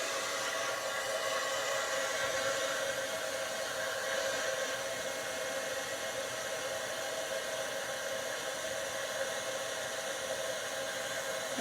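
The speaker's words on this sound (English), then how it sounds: "let's get this heat tool one more time" A heat tool blows hot air onto embossing powder during card making, a steady breathy whir with a constant hiss that runs unbroken and close throughout.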